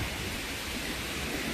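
Rain driven by strong wind makes a dense, constant rushing hiss outdoors, loud and even throughout, with no voices.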